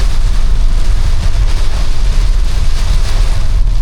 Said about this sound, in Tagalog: Talagang palupit ng palupit yung bira nung ulan at hangin.